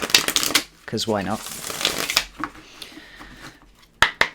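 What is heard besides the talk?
shuffling tarot cards (Deviant Moon deck)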